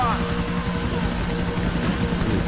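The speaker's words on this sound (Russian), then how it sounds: "Нико, нужно достать этого чудилу. Заходи под вертолет и запрыгивай." A helicopter in the video game Grand Theft Auto IV drones with a steady, loud rotor whir and engine hum, held constant throughout.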